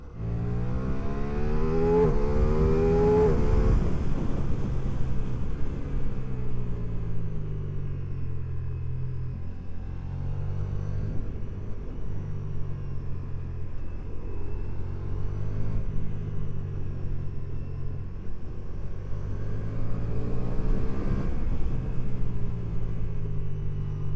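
Ducati XDiavel V4 motorcycle engine while riding, a deep continuous rumble with rising and falling throttle swells, including a sharp rev early on, heard close over steady wind noise without talk.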